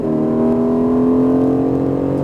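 Aston Martin Vantage engine pulling hard out of a corner on a Las Vegas track, a loud, steady, close engine tone that rises smoothly in pitch over a couple of seconds.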